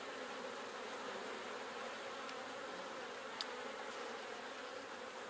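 Honey bees hum in a steady, dense drone from an opened horizontal beehive with brood, with a few faint high clicks over the close, continuous buzz.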